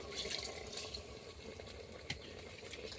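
Water poured into a pot of handi chicken cooking with tamarind, heard as a soft, steady watery splash and trickle at low level, with a small clink partway through.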